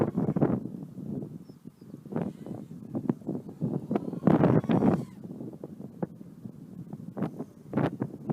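Gusty wind buffets the microphone outdoors during a mini FPV racing drone flight, coming in uneven bursts of low rumble with a strong surge near the middle, alone without talk.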